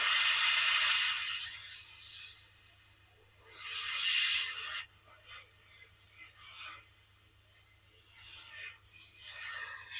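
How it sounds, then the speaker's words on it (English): An airbrush sprays paint onto a model railway signal box, picking out the window frames in repeated airy hissing bursts of a second or so, separated by quiet pauses. "the key bit with using the airbrush is this basically makes doing all of the detail bits of the window frames easier"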